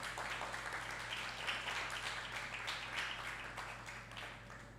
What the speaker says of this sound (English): I'm going to ask the graduates now to give them a round of applause for the work that they have done.